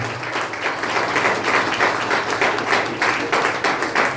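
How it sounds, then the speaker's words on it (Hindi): A church congregation at a Sunday prayer service breaks into strong applause, a full, sustained roar of many clapping hands that swells slightly and holds steady. "जोरदार ताली बजाइए।"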